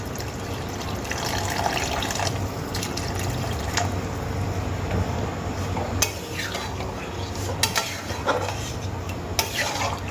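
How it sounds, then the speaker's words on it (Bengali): Warm water pours into a pan of chicken curry masala with a steady liquid rush, while a spoon stirs and clinks against the metal pot several times. "এবার আমি এর মধ্যে দিয়ে দেব কিছুটা জল।"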